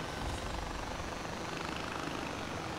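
A helicopter in the shooter video game Far Cry 4 gives a steady, fairly quiet rotor and engine drone that holds constant for a few seconds, with no talk over it.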